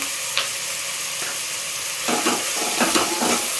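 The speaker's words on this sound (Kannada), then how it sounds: "ಈಗ ಫ್ರೈ ಮಾಡ್ತೀನಿ ಫ್ರೈ ಆಗ್ತಿದೆ" A tomato rice base fries with salt in a pan, a steady close sizzle joined later by a run of quick stirring scrapes, with no talk.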